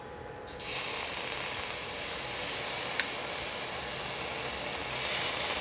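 Water splashed into a hot pan beside frying paneer bursts into a loud, steady hissing sizzle that carries on without a break, with no talk over it.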